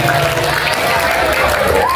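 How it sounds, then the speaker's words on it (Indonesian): Students at an Islamic junior high school Ramadan gathering clap together, a thick, continuous wash of applause heard close and loud, with some crowd voices and a speaking voice underneath. "Oke, tepuk tangan semuanya."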